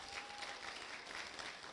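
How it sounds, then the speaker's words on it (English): Applause from an audience at a graduation Sunday, greeting a graduate; a steady wash of many hands clapping at moderate distance, fairly quiet and unbroken, with no talk over it. "Let's give Draven a round of applause"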